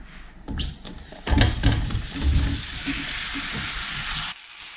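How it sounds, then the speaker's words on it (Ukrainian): Button mushrooms sizzle and crackle in hot oil in a frying pan, a steady close frying hiss that swells after a brief quiet start and carries on without talk. "Розігріваю олію та відправляю смажитися гриби."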